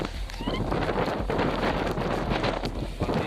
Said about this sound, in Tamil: மழை பெய்யுது அப்படியே காற்று எப்படி அடிச்சுட்டு தெரியுதா உனக்கு எதுனா?